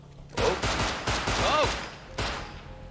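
Gunfire in the survival game Rust lands a headshot, a quick series of loud, close shots over about two seconds with a voice briefly audible among them.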